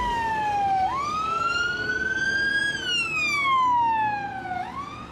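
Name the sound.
ambulance van siren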